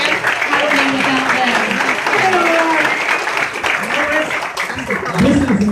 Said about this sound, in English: If you could guys give them a round of applause